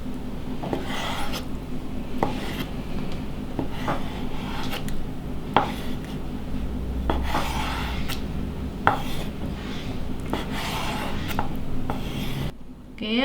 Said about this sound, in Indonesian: Kita iris lagi.